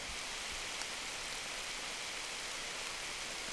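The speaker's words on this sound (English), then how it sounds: "But it's just raining" Rain falls steadily at a mountain lake, an even broadband hiss of drops on surfaces, continuous and moderately soft with no voices.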